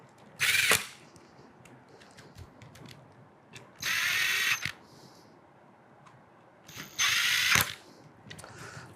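Screws being tightened on a Saffire LX-P door lock during installation, heard as three bursts of bright, rapid ratcheting clicks, each about a second long, separated by quieter handling noise, close and with no talking.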